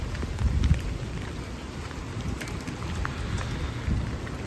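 Heavy rain pours down outdoors with a steady dense hiss and patter, close and constant, with low rumbling swells beneath it.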